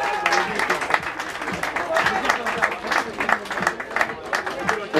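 Spectators at a running race applauding the U17 podium, a moderate, sustained patter of clapping from a thinning crowd, with a voice talking over the applause.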